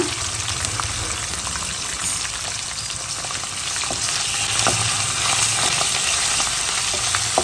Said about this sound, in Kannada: ಇವಾಗ ಇದೇ ಎಣ್ಣೆಗೆ ನಾವು ಸ್ವಲ್ಪ ಬೆಳ್ಳುಳ್ಳಿ ಹಾಗೂ ಮೆಣಸಿನಕಾಯಿ ಹಾಕೋಣ